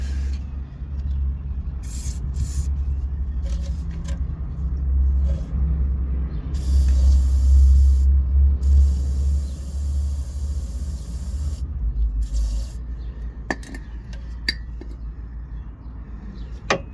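Aerosol spray hisses in several short bursts onto a car's ESP sensor part, over a steady low rumble.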